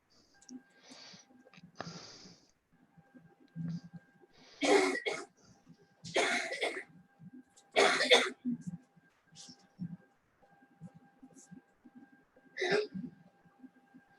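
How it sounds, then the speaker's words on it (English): Several short, sharp coughs come in separate bursts from someone nearby, with quieter breathy sounds and faint background noise between them, during a relaxed group conversation. "Who's coughing?"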